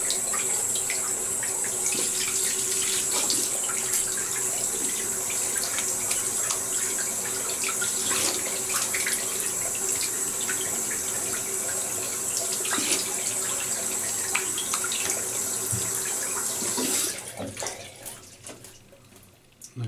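Tap water runs steadily and loudly into a sink for rinsing off after a wet shave, a continuous hiss and splash that tapers off near the end.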